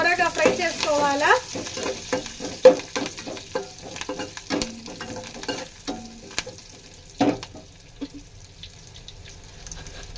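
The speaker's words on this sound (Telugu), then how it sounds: "ఆవాలు, జీలకర్ర, కరివేపాకు వేసుకొని దోరగా ఫ్రై చేసుకోవాలా." Mustard seeds, cumin and curry leaves fry in hot oil in a home kitchen, giving a crackling sizzle broken by irregular stirring clinks and scrapes of a utensil against the pan, with a brief splash of water.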